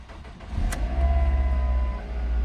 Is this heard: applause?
no